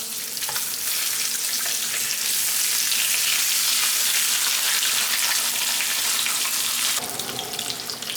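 Whole, unsliced bacon strips fry in a pan for a 1975 Campbell's cookbook cactus corn recipe, giving a loud, steady, hissing sizzle that runs unbroken throughout, with no voices.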